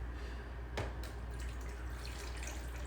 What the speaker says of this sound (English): I'm filling up this water in my little old-fashioned coffee pot